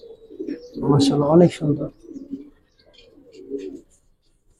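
Giribaz silver pigeons coo in low, throaty rolls, close by, mixed with a voice speaking Bengali.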